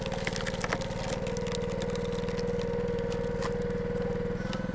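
Split-Fire 2265 log splitter engine held at low throttle, a steady, close idle-like drone with a throbbing low pulse running unbroken throughout.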